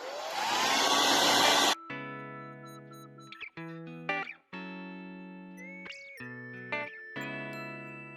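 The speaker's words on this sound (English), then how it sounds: "I'm going to hair blow dry it and make sure that it's dry first" A hair dryer roars loudly for under two seconds while drying a glued European skull mount, then cuts off and gives way to electronic music with sustained tones.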